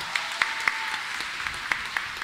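Sparse applause at a Mass held in solidarity with a protest march, a few scattered individual claps ringing out over a quiet church room with a thin background hum.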